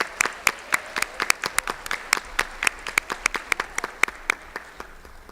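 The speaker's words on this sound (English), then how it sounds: "Let's give them a big round of applause." Applause from a small crowd at a church justice ministry rally, a sparse run of distinct, sharp claps in an uneven rhythm that thins out toward the end.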